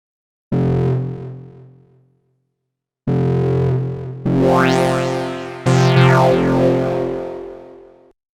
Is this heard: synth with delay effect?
yes